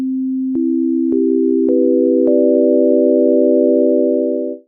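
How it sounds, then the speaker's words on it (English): A sine wave from the Ableton Operator synth builds into a five-note chord, notes entering one by one about every half second and then sustaining as a smooth, pure, steady tone before cutting off. "So like this operator right here. Okay, got a sine wave."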